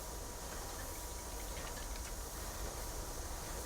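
Freight train E4 running in Transport Fever 2, heard as a steady, even rumble and hiss of rolling wagons at moderate distance, unbroken and without voices.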